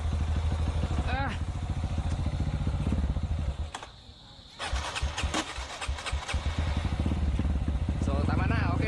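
A Kawasaki KLX motorcycle with a 274cc bore-up kit revs loudly and repeatedly during a test ride, dropping briefly to a quieter idle before accelerating hard again, close to the microphone.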